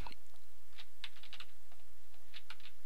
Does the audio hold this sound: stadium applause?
no